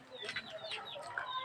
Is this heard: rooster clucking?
yes